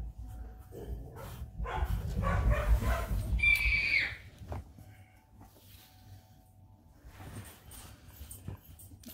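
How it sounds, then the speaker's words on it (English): Dogs barking and whimpering indoors in a home, a burst of fairly loud yelps and barks early on, then quieter scattered noise with no talk. "And cue the dogs barking."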